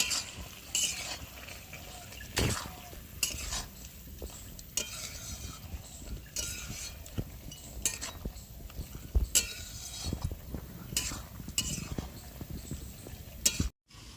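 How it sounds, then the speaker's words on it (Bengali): A curry of brinjal, Malabar spinach and hilsa fish head being stirred in a pot, soft simmering bubbles under repeated clinks and scrapes of a spoon against the vessel, fairly quiet and close. "দিয়ে এবার কিছুক্ষণ আমি নেড়ে একটু ফুটিয়ে নেব।"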